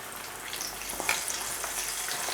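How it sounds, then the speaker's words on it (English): Flour-dusted soft shell crab pieces fry in hot oil for salt and chilli crab, giving a steady, close hiss of sizzling with a few brighter crackles and no talking. "We're going to place our dusted pieces of crab into the hot oil."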